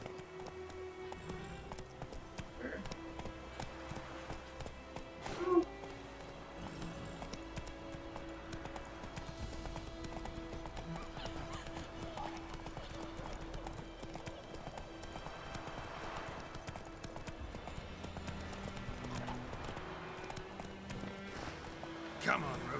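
Horse hooves clip-clop steadily in The Witcher 3, a continuous walking rhythm at moderate distance, with someone talking and game music alongside and one louder thump partway through.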